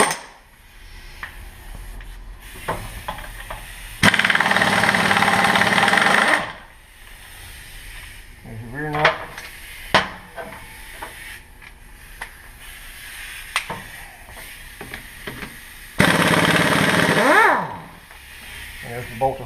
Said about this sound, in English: you're going to need an impact wrench for that